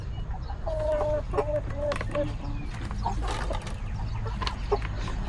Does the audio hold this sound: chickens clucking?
yes